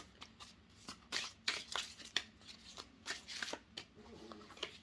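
Soft, rapid riffling and flicking of oracle cards being shuffled for a tarot reading, close up and quiet, with irregular bursts of papery snaps.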